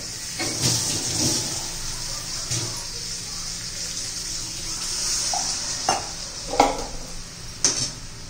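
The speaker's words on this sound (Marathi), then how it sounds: "कपभर पाणी घालते मी आता त्याच्यामध्ये." A cup of water poured into hot bitter gourd curry in a pan, giving a hissing, steaming sizzle with splashes and a few clinks of a utensil against the pan.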